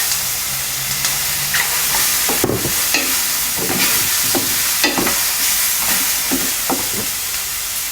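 Mushroom, carrot, broccoli and baby corn stir-fry over low to medium heat, with a steady close sizzle throughout and a spatula scraping and tossing the vegetables in repeated strokes.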